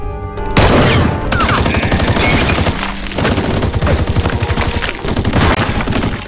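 Rapid, loud bursts of automatic gunfire and explosions fill a LEGO modern war battle set in Iraq, a dense continuous volley with rattling shots and booms throughout, close and intense.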